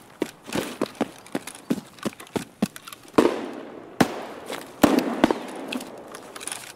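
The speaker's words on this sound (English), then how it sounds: "got distracted by all these gunshots" Gunfire from Escape from Tarkov rings out as a rapid series of sharp cracks, some in quick bursts and others more spaced, with a few louder, echoing shots standing out against a quiet background.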